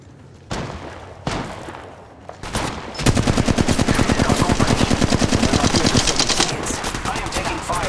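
Gunfire in Apex Legends Mobile ranked play: two sharp single shots, then a loud sustained rapid burst of automatic fire with dense repeating cracks, close and dominant.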